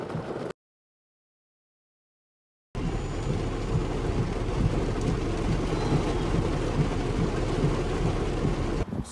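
Heavy rain pours down outside during a storm, a loud, steady, dense hiss that fills the clip after a short stretch of silence near the start.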